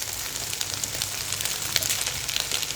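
Chopped parotta and egg fry in a hot pan with a steady, dense sizzle that crackles continuously and evenly close by, with scattered sharper pops and no voices.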